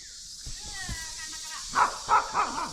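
A dog barks a few times in short, separate yelps at a moderate distance in the forest village of Kurbanapara, over a steady background hiss.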